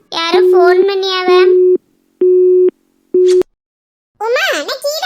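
Telephone call-waiting beeps during a phone call, a steady tone pulsing three times in short bursts between stretches of loud talk.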